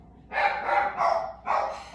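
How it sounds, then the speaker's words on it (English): Several dogs bark indoors at people walking around outside, a burst of three or four loud, close barks over about two seconds. "my dogs are barking because people are walking around"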